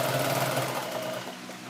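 A sewing machine runs steadily, stitching a pinned seam in old denim jeans where the back of the pants meets the leg, with a continuous close whirring drone that eases slightly toward the end.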